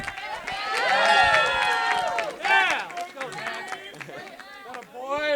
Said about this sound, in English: keep your hands together, everybody, for our best man, Zach